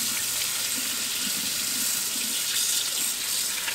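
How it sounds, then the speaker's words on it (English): Running water from a tap splashes steadily over a Wagner Flexio 4000 paint sprayer part as it is rinsed in a sink, a continuous bright hiss that stays even throughout. "So we'll go ahead and start rinsing this guy out."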